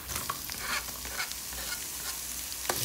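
Chopped onion goes into a pan of browned garlic for a carbonara, giving a soft, continuous sizzle with stirring scrapes and a sharp clack near the end.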